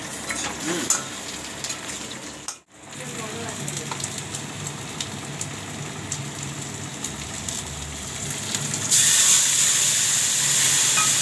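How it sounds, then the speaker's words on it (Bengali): Egg curry sizzling and frying in a pan while being stirred, a steady hiss with scraping stir strokes, briefly cut off once, then a louder burst of sizzle near the end. "দেখো কেমন ডিমের কারিটা বানাচ্ছে আমার বর"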